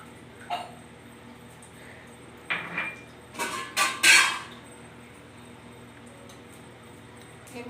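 Whole cardamom, bay leaf and dried red chilli are stirred in hot oil in a pan, giving a few sparse metal scrapes and clinks. They come in short clusters, with a louder burst of scraping near the middle and quiet gaps between.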